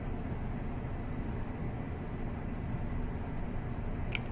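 A slip ring machine motor running at about 510 RPM makes a steady, even hum with a faint mechanical whir. The sound stays constant and continuous, with one brief high click near the end.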